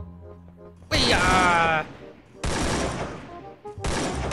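Gunfire bursts from a Free Fire match, two or three loud broadband volleys with a brief gap, one carrying a ringing metallic tail, as a voice exclaims over the first.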